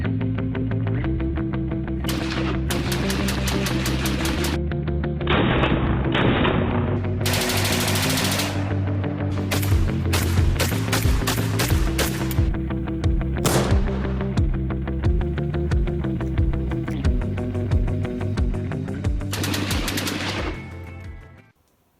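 Rapid, loud 9mm handgun fire at an outdoor range during 25-yard accuracy testing, the shots packed into continuous volleys of sharp cracks that run for about twenty seconds before stopping abruptly.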